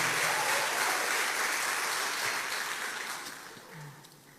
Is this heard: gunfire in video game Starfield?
no